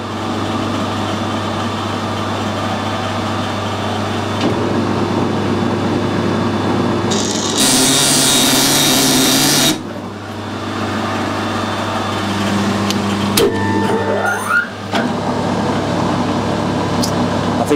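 Metal lathe cutting a BSP taper thread, a steady machine hum with motor drone running throughout, a brighter louder cutting burst in the middle, then clicks and a shifting whine near the end.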